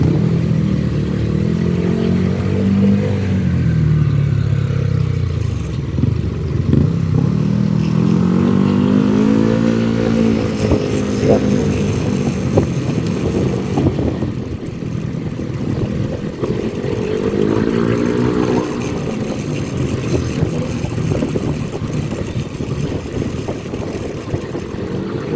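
A small Euro EZ125i motorcycle on a test ride, its engine droning steadily close up with rising and falling revs and some wind rush throughout, no talking.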